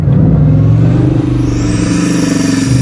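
Loud, close engine roar from a Bugatti Chiron Super Sport held on launch control, a dense sustained drone with a rising hiss as the revs build, no voices.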